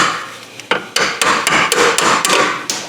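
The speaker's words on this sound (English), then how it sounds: "Give her a couple little whacks here." Several sharp metallic hammer whacks knock a part loose under a Dodge Caravan, close and loud, struck in a quick irregular series of about eight blows over a few seconds.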